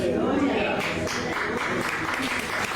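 Steady applause from a church congregation during a sermon by a minister, a continuous dense wash of clapping that holds at an even level from start to finish, with voices mixed in.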